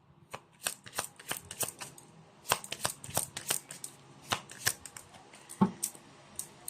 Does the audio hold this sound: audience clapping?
no